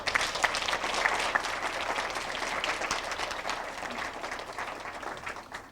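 Audience at an elementary school holiday radio show applauds steadily, a dense wash of clapping that fades slightly toward the end, with no talk over it.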